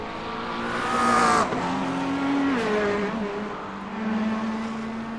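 A Corvette race car in the iRacing game, running at Mount Panorama, whines loudly through rising and falling revs with gear shifts, while other cars' engines pass close by.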